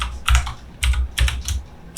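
Fingers type on a computer keyboard in four quick bursts of close, crisp keystroke clatter, separated by short quiet gaps, with no talking.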